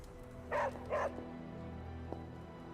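Dog Charlie barking in the video game Midnight Suns, two short barks close together near the start, then a faint click over quiet game ambience.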